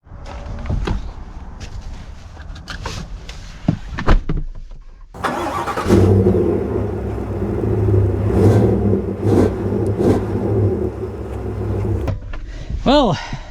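A 2025 GMC Yukon Denali Ultimate SUV starts up and settles into a steady engine rumble as it sets off, preceded by clicks and small cabin sounds, with a voice talking over parts of it.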